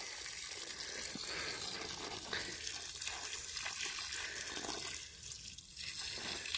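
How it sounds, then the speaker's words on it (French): Water from an 11-litre watering can pouring into a furrow in freshly tilled garden soil for planting leeks, a steady continuous splashing gush that dips briefly near the end, with no talking. "on va mettre 2 arrosoirs de 11 litres qu'on va faire ensemble en plein milieu de la raie"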